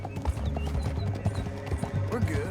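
Horse hooves clip-clop in a steady rhythm in Red Dead Redemption 2, set over a constant low rumble with faint mechanical tones from the game world.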